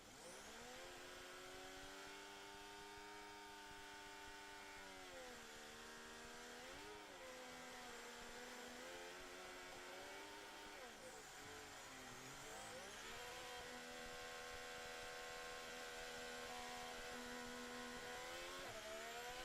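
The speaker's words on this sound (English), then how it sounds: "Let's listen in to Esteban Ocon with that Ferrari power unit in the house." A high-revving Formula 1 car engine with a Ferrari power unit whines steadily at track testing in Barcelona, pitch rising and falling through gear shifts, loud and continuous without talk.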